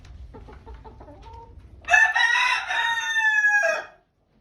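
Chickens in a coop cluck softly in a short run of notes, then a rooster nearby lets out a loud, drawn-out crow that ends abruptly.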